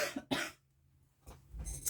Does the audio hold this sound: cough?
yes